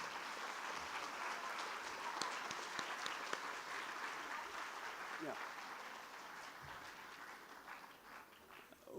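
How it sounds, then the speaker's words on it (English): Audience applause at a university convocation ceremony, a steady wash of many hands clapping that holds for the whole stretch with a few sharper claps poking through, fairly distant and even in level. "Please stand up and give a big applause."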